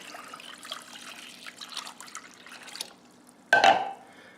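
Four cups of water pour into a sauce pot with butter, a close trickling and splashing stream for about three seconds, then a louder, brief splash.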